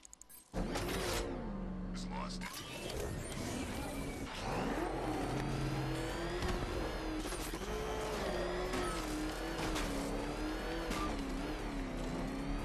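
A car drives in Batman: Arkham Knight, its engine revving and rising in pitch over a steady rumble, with game voices speaking alongside.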